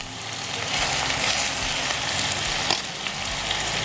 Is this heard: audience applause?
no